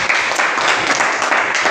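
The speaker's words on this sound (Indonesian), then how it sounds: "Kita tepuk tangan dulu untuk" Audience applause at a classroom presentation, a dense, even wash of many hands clapping close and fairly loud, with faint voices mixed in.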